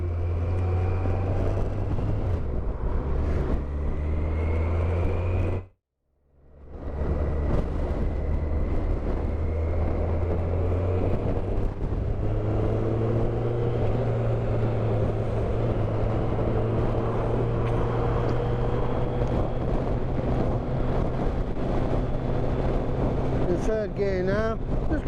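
A Kawasaki GTR 1400 motorcycle pulls hard in third gear, its engine a loud, steady drone that climbs in pitch, with a brief drop-out early on and heavy wind rush throughout.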